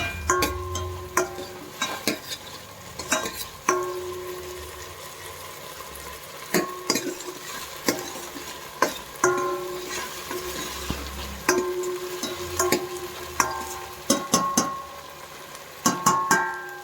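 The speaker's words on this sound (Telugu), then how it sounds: "మధ్యలో ఒకసారి కొంచెం అలా తిప్పుకుంటూ త్వరగా అవుతుంది తిప్పుతూ ఉంటే" Vegetable pulao with meal maker chunks cooks in a pan under a soft, steady sizzle, broken by intermittent close scrapes and taps of a spoon stirring the rice against the metal, with no voices.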